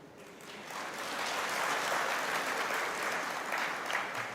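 An audience at a Hindi motivational speech breaks into applause, a steady wash of clapping that swells after the first second and holds at an even level, moderately distant and with no talk over it.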